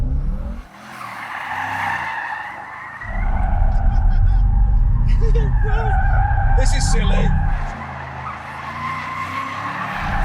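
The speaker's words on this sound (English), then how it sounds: "Does that mean this car will do skids?" A Bentley Continental GT convertible, with stability control switched off, skids with loud squealing tires and a surging engine for several seconds while someone speaks over it.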